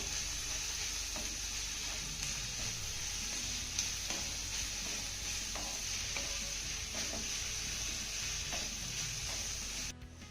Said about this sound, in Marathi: आता ह्या फोडणीमध्ये वाटलेली गवार आपल्याला 2 ते 3 मिनिटं चांगली परतून घ्यायची आहे